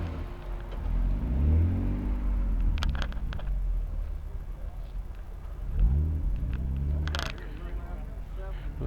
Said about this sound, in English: The 442 Oldsmobile.